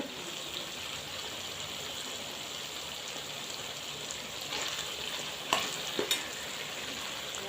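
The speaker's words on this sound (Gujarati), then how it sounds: "તો સરસ મજાના આપણા એકદમ ધીમા સાથે શાકભાજી શેકાય છે" Vegetables for pav bhaji roast slowly over low heat in ghee and butter, a soft, continuous hiss with faint stirring and a couple of brief louder scrapes near the end.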